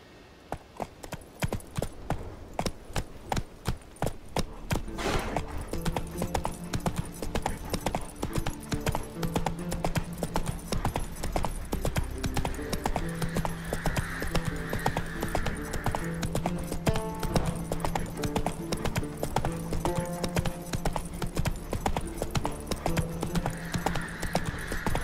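Horse hooves galloping in The Witcher 3, a fast continuous clip-clop rhythm running steadily and close throughout, with ambient game music beneath.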